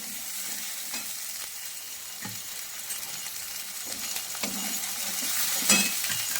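Masala of turmeric, chilli powder, cumin and coriander frying in a pan, a continuous bright sizzle with repeated scraping stirs and occasional light clinks of the utensil, no talking.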